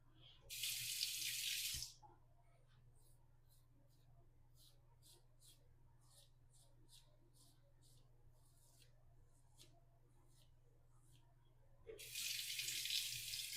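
A bathroom faucet runs hard into a sink twice, in short bursts at the start and end, to rinse a Mach 3 razor cartridge. Quiet razor scraping sounds in between.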